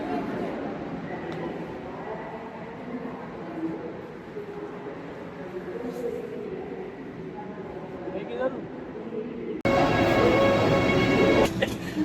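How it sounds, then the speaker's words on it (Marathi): A train pulls into a station in Germany on a cold day, its steady rumble under talk building to a loud, harmonic brake squeal and whine in the last few seconds. "आणि आमची ट्रेन आलेली आहे"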